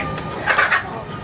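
A rooster clucks once in a chicken house, close and fairly loud, with a brief rising burst in the middle of a short stretch of background noise.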